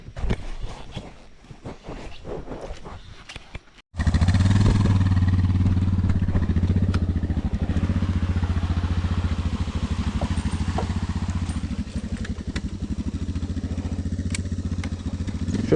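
A motorcycle starts up and rides off, its engine loud and close with a steady running drone after a brief burst of clatter; no one talks over it.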